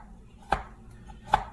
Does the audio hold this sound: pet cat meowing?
no